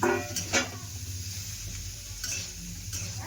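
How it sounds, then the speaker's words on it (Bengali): Potatoes and kohlrabi stirred in a frying pan, a soft steady sizzle with a couple of scraping stirs at the start and near the end, close and moderately quiet. "দেখো এবার দিয়ে দিল আলু আর ওলকপি"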